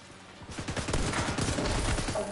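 Gunfire in the video game The Division 2, a dense rapid fusillade of shots building and continuing steadily, fairly loud and close with no clear speech over it.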